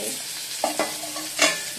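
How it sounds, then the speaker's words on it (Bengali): Fish frying in a small amount of oil bubbles and sizzles steadily at close range, broken by a few short spatters and clicks. "যা মাছটা ফুটছে"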